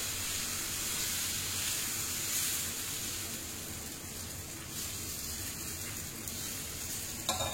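Sprouted moong and oats chila batter cooks on a low-heat pan with a steady close sizzling hiss, fairly even throughout and ending in a brief scrape.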